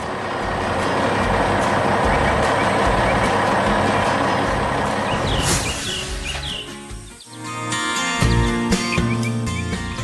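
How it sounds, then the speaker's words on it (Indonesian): A loaded truck pulls away from a farm, its loud, steady engine rumble filling the scene before dipping briefly, then returning with a cluster of high beeps and chirps. "Truk itu kini melaju pergi membawa muatannya."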